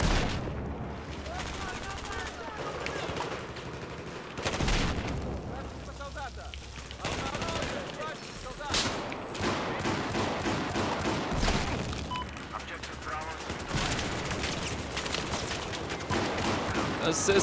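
Rapid automatic rifle fire from the AS VAL in Battlefield 4 on PC, bursts of suppressed gunshots repeating through a chaotic firefight, steady and fairly loud with other weapons and explosions mixed in and speech over the top.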